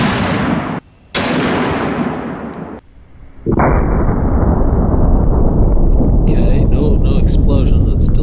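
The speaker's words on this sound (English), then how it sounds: "Gun test fired effectively." A gun test-fired remotely by pulling a string, producing a loud, sharp blast with a brief dropout, then a sustained roar of noise and wind-like rumble that fills the rest of the moment.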